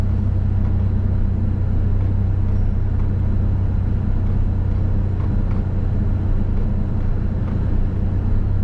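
A car interior rumbles steadily while riding slowly through a residential community, with a constant low engine and road drone and no break in the sound.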